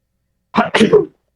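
One sharp sneeze, close and loud, in two quick bursts, with silence before and after.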